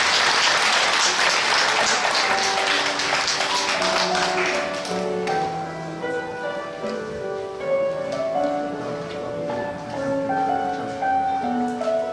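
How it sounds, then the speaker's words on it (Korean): A church congregation gives loud, dense applause to encourage young children, starting strong and then fading away as sustained musical tones take over. "격려 박수하겠습니다"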